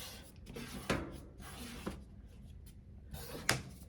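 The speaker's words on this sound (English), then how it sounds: "You can open the doors." The wooden doors on a newly assembled bookshelf cabinet are opened and closed, making soft rubbing sounds with about three light knocks spread over a few seconds, quiet and close.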